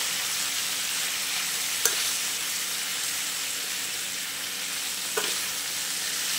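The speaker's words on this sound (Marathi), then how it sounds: "अर्धा चमचा हळद, अर्धा टीस्पून छोटासा धने पावडर यात आपण मिक्स करून घेऊया।" Raw mango bhaji with turmeric and coriander powder sizzles steadily in a pan, a constant hiss with two brief clinks of a spoon as the spices are stirred in, and no one speaking.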